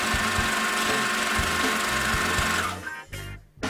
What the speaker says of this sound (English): When you're done sewing, turn it right side out, smooth the corner, and sew another seam around the perimeter